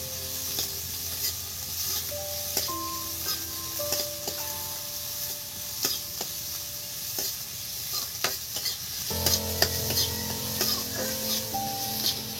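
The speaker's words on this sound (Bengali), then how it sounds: "তেলের মধ্যে বন্ধুরা দেখুন বন্ধুরা এই যে পেঁয়াজগুলো দিয়ে দিচ্ছি" Onions sizzling in oil in a pan for a pointed gourd mash, a steady close frying hiss with repeated spatula scrapes and stirs, growing louder near the end, no talking.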